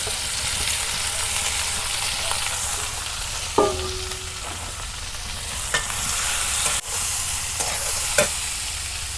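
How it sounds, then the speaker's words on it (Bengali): Chopped onion and green chillies frying in hot mustard oil, a loud continuous sizzle with occasional scrapes and clinks of a spatula against the pan. "তেল গরম হচ্ছে এখন আমি পেঁয়াজ কুচি দিয়ে দেবো কাঁচামরিচ কেটে দিলাম"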